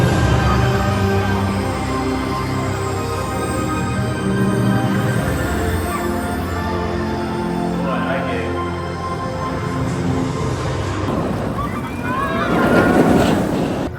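The Kraken roller coaster at SeaWorld Orlando runs as a ride-along, with a steady loud roar of rushing wind and rumbling track that swells near the end, with no talking.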